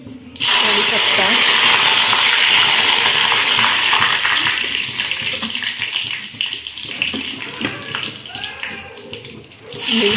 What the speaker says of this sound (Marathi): मिरच्या अशा टाकल्या की चांगलं परततात